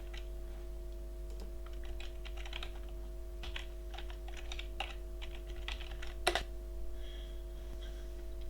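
Typing on a computer keyboard, a quiet, irregular patter of close key clicks over a low steady electrical hum, with one louder clack near the end.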